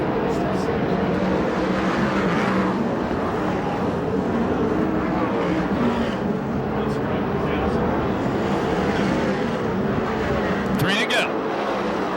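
USAC/CRA sprint cars race around the track at Perris, California, their engines merging into a continuous, moderately distant roar beneath a race announcer's commentary.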